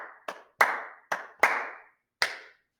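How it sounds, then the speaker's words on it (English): Hands clap out a syncopated rhythm, six crisp, close claps in an uneven pattern over a few seconds, each with a short room decay and no voices. "I'll take out the counting, just do the clapping."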